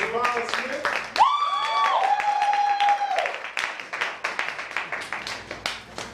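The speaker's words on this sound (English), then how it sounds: "if you can give them a round of applause." Audience clapping at an awards handout during a spoken word talent competition, a scattered patter of hands with a brief whoop and voices calling out over it, thinning toward the end.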